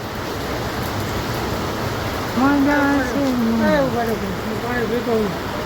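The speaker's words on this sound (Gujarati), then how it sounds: "બહુ વરસાદ આવ્યો" Heavy rain pours down in Babra, a dense, continuous roar of falling water close by, while a person talks over it partway through.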